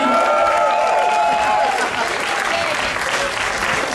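Crowd applause and cheering at a street dance battle competition, loud and continuous throughout, a dense roar of clapping with shouts rising over it.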